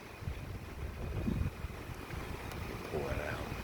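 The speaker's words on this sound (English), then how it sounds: "It's getting real windy now." Strong wind ahead of a June thunderstorm near Cincinnati, Ohio, buffets and rumbles in a continuous, gusty roar with low swells rising and falling.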